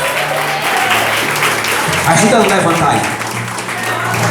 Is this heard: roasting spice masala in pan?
no